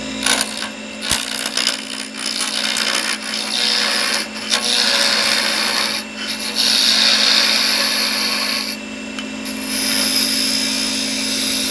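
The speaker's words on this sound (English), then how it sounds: "When you've got a skew, you can make anything round." Skew chisel cutting wood on a lathe during a live woodturning demonstration, a continuous hissing, scraping rush with a steady motor hum beneath and brief pauses as the tool lifts off, no talking.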